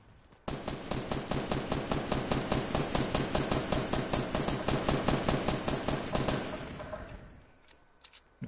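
Rapid automatic gunfire from a Fortnite match, a steady burst of closely spaced shots lasting several seconds before trailing off, loud and close with no talk over it.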